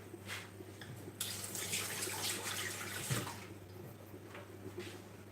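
A kitchen knife washed under a running tap while cooking duck breast, with a steady close stream of water splashing and a few louder swishes as the blade moves through it.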